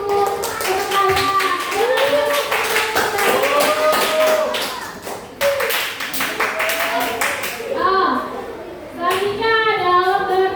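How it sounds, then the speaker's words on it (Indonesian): Students in a Grade 7 mathematics classroom clap their hands in a dense, lively burst while children's voices chatter and call out over it. The clapping thins and fades toward the end. "Tepuk tangan untuk saya."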